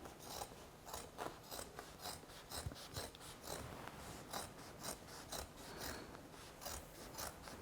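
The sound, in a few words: scissors cutting Pendleton coat fabric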